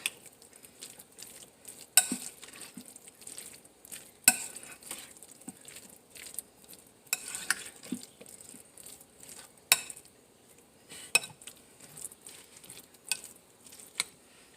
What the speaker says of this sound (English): Get that mustard mixed in.